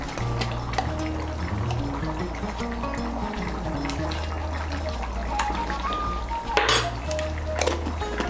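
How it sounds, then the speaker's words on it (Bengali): Ghee and garam masala powder are stirred into vegetable moong dal in a pot, with a spoon repeatedly clinking and scraping against metal over a soft bubbling simmer and a low steady hum. "ঘি আর গরম মশলার গুঁড়োটাকে ভালো করে মিশিয়ে নেব।"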